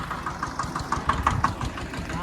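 A tractor engine idles nearby in a village maize field, a steady, rapid knocking chug at moderate loudness, with voices faintly mixed in.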